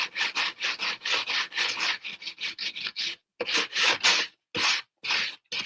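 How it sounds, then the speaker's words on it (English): Carved wood being sanded by hand with a sanding block, a rapid series of rasping back-and-forth strokes close to the microphone, regular at first and then in shorter, separated bursts. "I have a sanding block."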